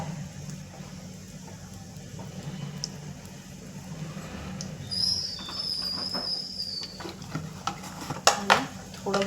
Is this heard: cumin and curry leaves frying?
yes